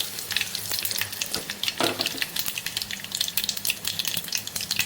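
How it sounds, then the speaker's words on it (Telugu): Mustard seeds and red chillies fry in hot oil for a tempering, giving a dense, steady sizzle full of quick crackling pops, close and continuous with no voices. "ఆవాలు వేస్తాను రెండు రెండు మిరకాయలు వేస్తున్నానమ్మా"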